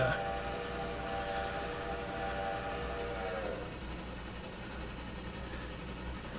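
Steam-era locomotive in the Railroader video game slowly getting under way: a steady low rumble of the engine with a sustained whistle-like tone that fades out partway through, leaving a continuous rolling drone.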